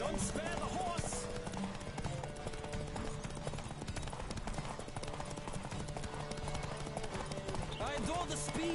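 Rapid galloping hoofbeats from a racing horse in The Witcher 3 video game, a continuous clip-clop rhythm under game music while characters call out loudly over it.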